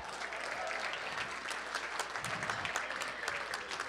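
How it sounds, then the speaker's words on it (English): Applause at a sports celebrity charity dinner event, given for a local restaurant sponsor: steady, moderately distant clapping from a seated crowd, with individual claps standing out here and there. "How about a nice big round of applause for Giovanni's again here tonight?"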